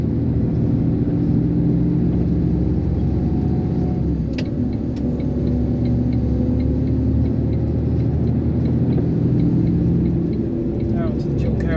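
An Iveco concrete mixer truck's engine drones loud and steady while driving in 9th gear onto a slip road at about 25 mph, a low continuous cab rumble with someone talking over it.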